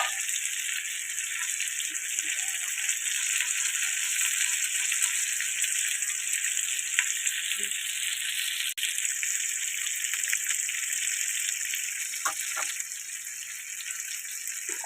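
Mackerel fries in oil with a steady, bright sizzle and light crackling that holds evenly throughout at moderate loudness, with no talk over it.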